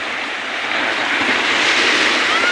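Ocean waves surge and crash close by at a beach resort in Zamboanga City, Philippines, a loud, steady roar of surf with some wind buffeting the microphone.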